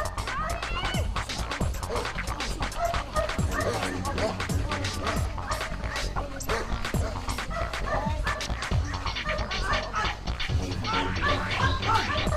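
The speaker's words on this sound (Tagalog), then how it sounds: "Parang di mo pansin ang mga asong nagwawala." Several dogs bark wildly and yip without a break during a televised outdoor challenge, mixed with loud talk and commentary throughout.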